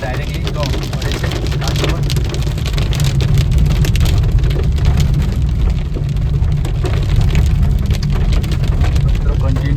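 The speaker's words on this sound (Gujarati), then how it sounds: "ઓલરેડી વરસાદ ચાલુ થઈ ગયો છે" Steady rain drums on a car during a mountain road trip through Uttarakhand, a dense, even patter with a low vehicle rumble underneath, constant and close throughout.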